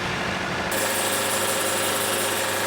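An engine-driven saw idles, then roars louder and rougher as it begins cutting into a large mineralized poplar log outdoors. The engine drone is close and continuous.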